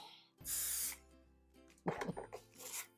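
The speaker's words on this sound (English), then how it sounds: "we want to spray it just to hold it in place" A short hiss of spray adhesive from an aerosol can onto an embroidered patch, loud and close, then a few clattering handling noises.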